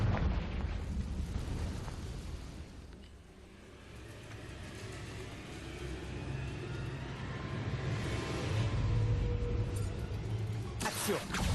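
A Confringo fire spell bursts in Hogwarts Legacy gameplay on Switch, a low, rolling blast with crackling roar that swells and fades, followed by a second surge and a sharp burst at the end.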